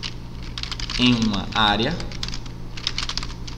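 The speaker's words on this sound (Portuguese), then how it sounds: "Então Alt clico com o botão esquerdo" Keyboard keys and mouse buttons click in Photoshop, a quick patter of light taps running under someone speaking.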